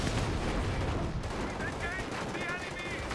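A .30 cal machine gun fires in Company of Heroes during a battle, its bursts rattling continuously under dense gunfire and explosions, with a commentator talking over the top.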